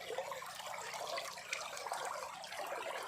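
An old river flows steadily, producing a constant rushing, burbling wash of water that fills the whole stretch at moderate loudness, with no voices.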